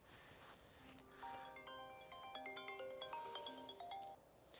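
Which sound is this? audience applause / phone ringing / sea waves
phone ringing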